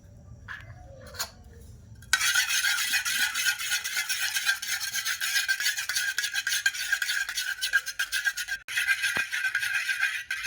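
An egg being beaten in a bowl for fruit cake batter gives a steady, fast scraping whisk that starts after a brief quiet pause and runs continuously, close and fairly loud.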